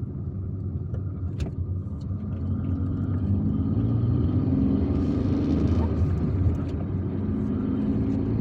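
Steady rumble of cars driving by on a busy street in Algiers, a continuous close wash of engine and tyre noise that swells slightly midway, heard from inside a moving car.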